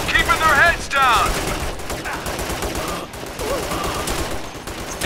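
Sustained gunfire in the military shooter Operation Flashpoint: Red River, with rapid machine-gun bursts and rifle shots rattling steadily throughout, loud and close, mixed with shouted radio-style voices and battlefield noise.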